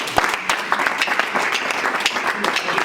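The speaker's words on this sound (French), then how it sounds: "Acclamons pour Dieu." A church congregation bursts into lively applause for God at a French-language prayer service, with dense, uneven clapping close by and a few brief vocal shouts mixed in.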